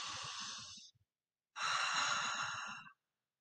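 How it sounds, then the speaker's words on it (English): A person takes a deep breath in and then lets it out, two long, close, airy breaths separated by a short pause, with no talking. "So take a deep breath in."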